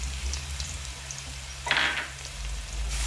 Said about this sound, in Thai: ใช้ไฟอ่อนเจียวกระเทียมให้หอม